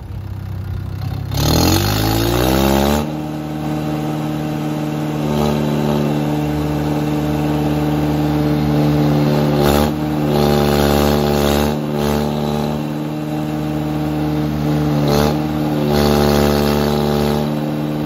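A Mahindra 585 XP Plus tractor engine revs during a stunt in Uttar Pradesh. The pitch climbs sharply at first, then holds as a loud, steady, throaty drone close by, with small surges throughout.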